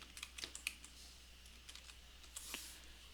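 Quick bursts of key presses on a computer keyboard while entering a command, light and close, with short pauses between clusters of clicks and no talk.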